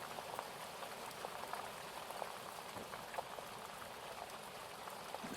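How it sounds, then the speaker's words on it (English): Rain from a passing thunderstorm over a farmhouse, a soft, steady patter of drops on surfaces, faint and even throughout with no voices. "with the sounds of the rain"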